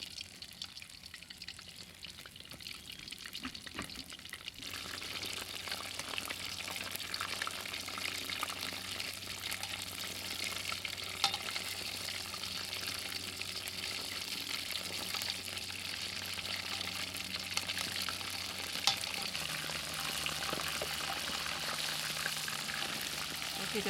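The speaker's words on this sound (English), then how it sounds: "And you deep fry until you see the golden brown." Scallops deep frying in hot oil, a steady bright sizzle and bubbling that runs unbroken and fairly close throughout, with a few faint clinks near the end.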